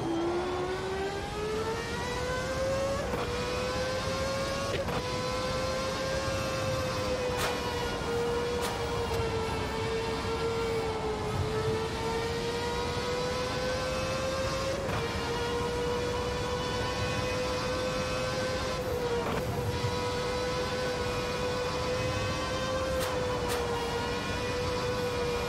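A race car engine in the Automobilista 2 racing game revs high and steady for a long stretch, its whining pitch climbing slowly and dipping briefly at a few gear changes, loud and continuous with no talk.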